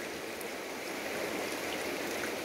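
River water flows in a continuous soft hiss and babble, faint and steady for the whole stretch, with no voices over it.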